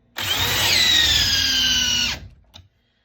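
A DeWalt 1007 cordless drill on a fully charged battery spins up with a loud, close, high motor whine, holds steady for about two seconds, winds down, then gives a brief final blip.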